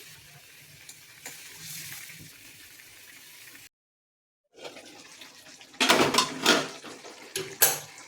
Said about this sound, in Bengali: ঝোলটা ফুটে গেছে, এবার মাছগুলো একে একে দিয়ে দেবো